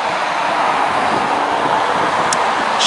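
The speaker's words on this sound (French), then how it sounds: "Chier ces voitures." Cars pass on a busy road, a steady broadband roar of traffic filling the whole stretch at close range with no breaks, and no talking.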